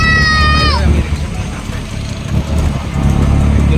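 Auto rickshaw riding along a road in Mumbai, its engine a steady low rumble mixed with surrounding traffic and crowd chatter, with a short horn-like tone at the very start.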